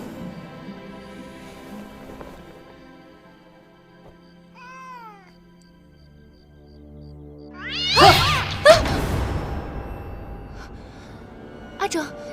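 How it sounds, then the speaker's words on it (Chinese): A wild cat meows and caterwauls, a few short mewing calls followed by a loud, harsh yowling outburst, close and dramatic, with sparse background sounds around it. "这怎么会有一只咬人的野猫啊？"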